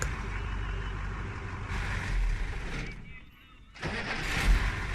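A long-hooded American logging truck with a cobra hood ornament starts up in the Snowrunner video game, its engine turning over and rumbling loudly through a steady, close idle with a brief lull before revving back up.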